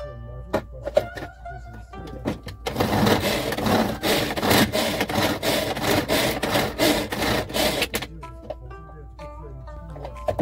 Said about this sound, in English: The more pulls, the finer the chop.